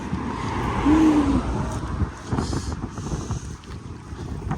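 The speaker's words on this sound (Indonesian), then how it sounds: "Ada angin ya, dingin." Cold wind blows through the lower town of Bergamo, Italy, buffeting the microphone with low, uneven rumbles over a faint wash of nearby traffic.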